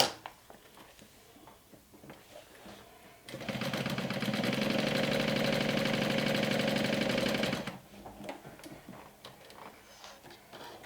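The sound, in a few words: sewing machine stitching a backpack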